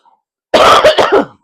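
A single short burst of harsh coughing or throat clearing, close and loud, in a few quick rough pulses.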